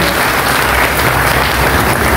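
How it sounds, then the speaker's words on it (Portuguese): Loud, dense crowd applause at an outdoor Mass for truck drivers, customers and staff at a roadside fuel station, honoring the youngest female truck driver; steady clapping close by with no pause. "uma salva de palmas na motorista mais jovem"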